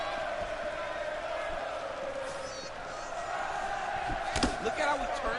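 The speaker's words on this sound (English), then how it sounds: "The crowd chanting Olay." Video game arena crowd in UFC 4 chanting "Olé" during a fight, a steady loud roar of massed voices with a sharp burst near the end, under commentary.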